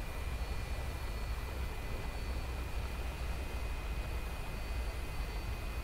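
An F-86 Sabre jet in the DCS flight simulator rolls along after landing, a steady, broadband engine roar and whine with a faint high tone, unbroken and without voices.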